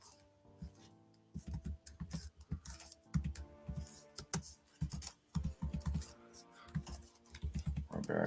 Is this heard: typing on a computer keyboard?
yes